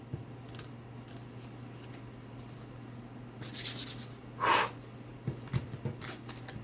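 A booster pack of collectible trading cards is torn open, giving a few short crinkling, ripping bursts of foil wrapper over a quiet room hum, with brief rustles before and after.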